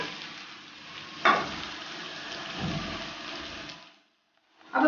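Prawn fried rice being stirred and tossed with cooked rice in a pan, a steady sizzle with a few spatula scrapes and clunks, loud and close, then cutting out briefly before resuming.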